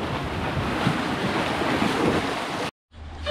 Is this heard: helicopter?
no